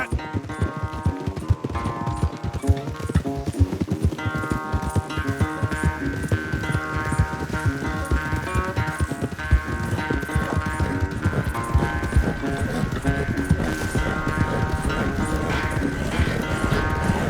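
Horse hooves clip-clop in a rapid galloping rhythm through a race in Red Dead Redemption 2, set against steady game music with tonal bands, fairly loud and continuous.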